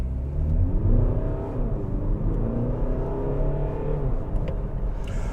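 A 2020 Audi A3 Sportback 35 TDI with a 2-litre four-cylinder diesel and S tronic gearbox pulls hard from a standstill, a steady loud engine drone rising through the gears with no voices.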